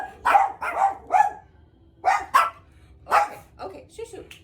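Several dogs bark in sharp, repeated bursts, fairly close indoors, in three clustered groups over a few seconds with brief quiet gaps between them.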